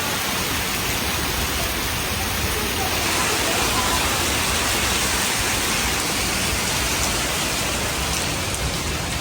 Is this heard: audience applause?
no